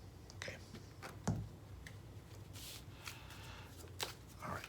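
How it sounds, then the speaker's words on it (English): A deck of game cards is shuffled in quick riffling bursts, soft and close, with faint whispered talk alongside. "All right, shuffling."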